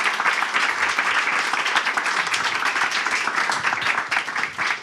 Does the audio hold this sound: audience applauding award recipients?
yes